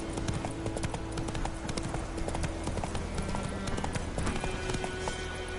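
Horse hooves galloping in The Witcher 3 video game, a steady rapid clip-clop rhythm that is close and continuous, with game ambience underneath.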